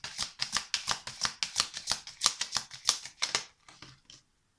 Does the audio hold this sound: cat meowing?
no